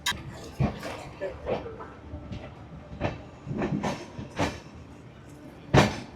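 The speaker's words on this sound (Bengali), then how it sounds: "ট্রেন আমাদের এই এখন ছেড়ে দিল মধুপুর জাংশন থেকে" Amrit Bharat Express pulling out of Madhupur Junction, with intermittent clanks and rumbling bursts of the moving train, a loud thump near the end, and a dog barking faintly in the background.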